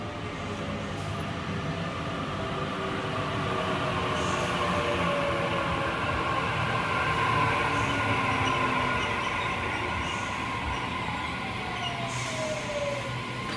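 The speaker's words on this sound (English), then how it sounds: "We have a Waratah Series 2 set arriving into platform number 1, City Circle service." A Waratah Series 2 train set rolls into platform 1 at Warwick Farm station on a City Circle service, a steady, loud rumble of wheels and motors with faint brake squeal tones sliding over it.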